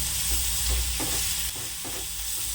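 Drumstick leaves fry in a pan with a loud, continuous sizzle and hiss close up, broken by rhythmic scraping sounds as they are stirred.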